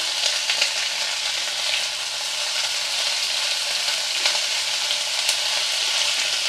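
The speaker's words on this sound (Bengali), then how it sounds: "ডাঁটা, ডগা, একটু পাতা সব দিয়ে একটু সাঁতলে নেব।" Bottle gourd stems, tendrils and leaves sauté in a pan over low to medium heat, giving a steady, close sizzle with faint stirring scrapes throughout and no voices.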